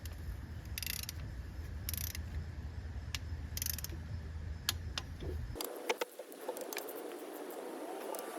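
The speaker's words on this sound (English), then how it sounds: "I'm gonna start tightening these in sequence to 20 foot-pounds" Ratchet tightening Prius cylinder head bolts in sequence, close rapid ratcheting bursts repeating in short runs with scattered metallic clicks, then a shift to denser clattering handling noise.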